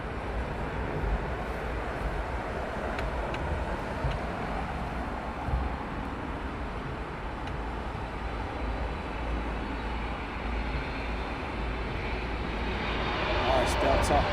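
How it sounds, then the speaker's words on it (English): An airliner arriving on Heathrow runway 27R gives a broad, steady engine roar that swells slightly toward the end, heard from the ground with some distant background noise. "Next arriving aircraft."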